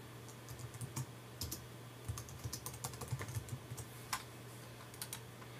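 Quiet, close typing on a Mac computer keyboard, with scattered soft key clicks in uneven bursts over a low steady hum and no talking.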